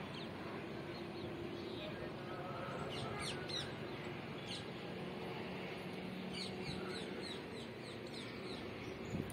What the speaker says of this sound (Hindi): सुबह सुबह आओ, चिड़ियों का आवाज इतना अच्छा लगता है ना।